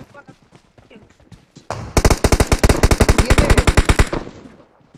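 Automatic gunfire in the PUBG Mobile battle royale game: a loud, rapid burst of about two seconds of evenly spaced shots, preceded by a voice talking.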